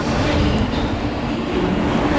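A metro train rumbles past close by, a loud, steady roar of wheels and carriages with a faint clatter and no speech.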